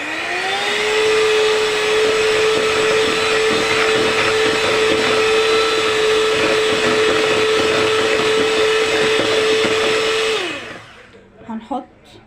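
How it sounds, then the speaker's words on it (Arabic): An electric hand mixer beats cake batter with a loud, steady high-pitched whine that runs unbroken for about ten seconds, then cuts off, leaving a few faint clinks. "هنضرب بقى كل ده كده بالمضرب الكهربائي"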